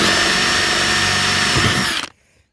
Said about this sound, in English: Put a smaller drill up on it.